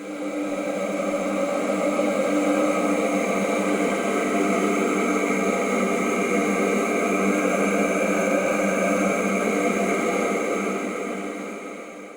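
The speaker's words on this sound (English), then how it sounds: "Finally, the vocal pads." Vocal pad synth preset in Pigments built from human voice textures: a sustained, breathy choir-like drone with layered steady tones and airy noise, holding evenly throughout and fading slightly at the end.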